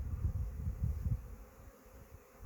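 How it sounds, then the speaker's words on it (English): Honeybees buzz inside an open hive while comb is scraped off, a dense close-up hum that swells and fades over a couple of seconds. "It's weird, I can feel them buzzing."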